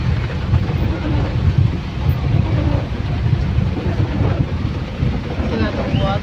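Heavy rain pours down outdoors in a dense, steady roar with gusty low rumbling, while voices talk faintly underneath.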